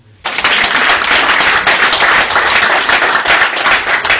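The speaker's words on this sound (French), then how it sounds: "On acclame Jésus." A worship congregation breaks into loud, sustained clapping and applause that starts abruptly and carries steadily to the end, dense and close.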